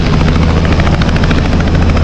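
A helicopter's rotor chops steadily in a loud, continuous roar, close by, with a deep low-end rumble throughout.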